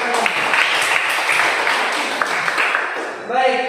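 Students applaud in a classroom, a dense burst of clapping that fades before a voice starts speaking at the end.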